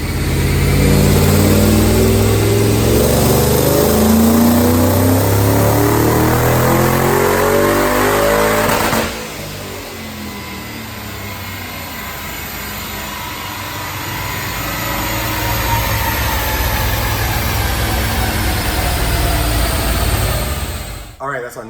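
A 3V Ford Mustang engine with a Paxton supercharger, stock engine on 93 octane fuel, roars loudly at high revs on a dyno, climbing in pitch, drops off abruptly, then winds back up to a sustained roar before cutting out.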